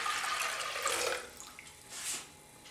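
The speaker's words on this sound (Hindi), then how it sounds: "4 कप्स वाटर डालेंगे" Four cups of water poured into a pot for Punjabi dal chana, a splashing, hissing stream that runs steadily for about a second, then eases off before a shorter second pour.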